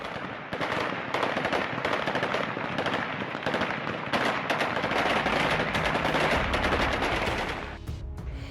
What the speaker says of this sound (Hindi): तालिबान लड़ाकों ने जीत का जश्न मनाने के लिए वहां हवा में गोलियां चलाई